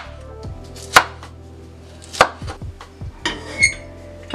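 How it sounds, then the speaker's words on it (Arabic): A knife chops vegetables on a board in a home kitchen, with a handful of separate, sharp strokes at uneven intervals. The cuts are close and clear, and no one talks. "قطعوها كما بغيتو، كبيره صغيره"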